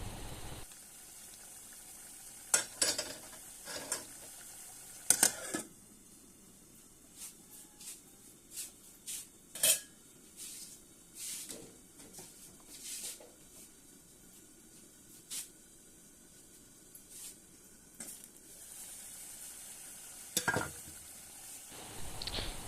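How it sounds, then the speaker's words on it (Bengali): Beef curry with potatoes simmers in a cooking pot while a spoon stirs it, faint bubbling under intermittent scraping and clinking knocks against the pot, quiet and close with scattered sharper strikes. "একটু লাড়াচাড়া করতেছি মাংসগুলো ভালো করে ফুটিয়ে যাওয়ার জন্য।"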